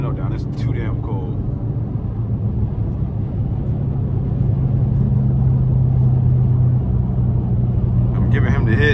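A modified Mustang cruising on the highway fills the cabin with a deep, steady engine rumble and road drone. Voices come in briefly at the start and the end.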